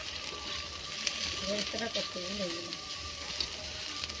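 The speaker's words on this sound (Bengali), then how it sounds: "আর এখানে তোমার বেরেস্তা রেডি হচ্ছে" Sliced onions fry in plenty of hot oil for biryani beresta, a steady close sizzle and crackle throughout, with a faint voice murmuring underneath.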